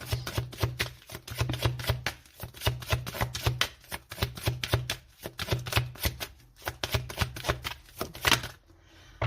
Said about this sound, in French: On va aller tirer une carte des anges de l'amour.